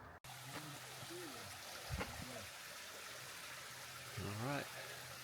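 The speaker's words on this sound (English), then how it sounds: "we got a nice little stream making some morning music for us" Bromley Brook, a small stream on the Appalachian Trail, trickles and babbles steadily as a faint continuous wash, heard in the morning with a quiet voice now and then over it.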